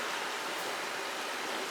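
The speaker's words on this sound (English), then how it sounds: "the water's relatively low because it's been sort of raining on and off" River water flowing steadily beneath a bridge and across a ford at fairly low level after on-and-off rain, a continuous broadband rushing wash close by with no talk.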